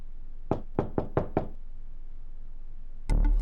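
Five quick, sharp knocks land on a door in a short burst, close and distinct, followed by a pause of quiet and then a sudden loud, sustained noise at the very end.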